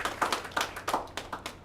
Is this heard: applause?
yes